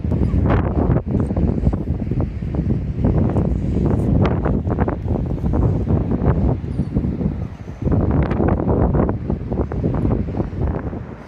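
Gusty wind buffets the microphone on a coastal walking track near Port Quin, a continuous loud, rumbling roar that swells and dips in waves, with no one speaking.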